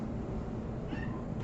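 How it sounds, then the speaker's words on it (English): A cat at a feline rescue center lets out a single meow partway through, modest in volume against a dense background of shelter noise. "this one's meowing, but it's not her"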